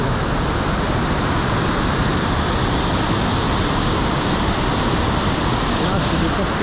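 Waterfall cascades roar up close in a loud, steady rush of water that fills the whole scene without a break.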